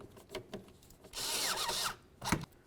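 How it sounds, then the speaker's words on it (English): A hose clamp is loosened with a flathead screwdriver or 8mm socket, giving faint, close bursts of ratcheting and scraping, one longer run between brief taps. "For that, you can use a flathead screwdriver or an 8mm socket."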